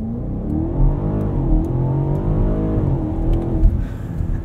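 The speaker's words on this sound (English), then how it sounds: "Let's try a launch control start with this." A 2021 BMW Alpina XB7 making a launch control start, the engine note rising and swelling loud and close from inside the cabin, with a shift and the pitch climbing again as it accelerates.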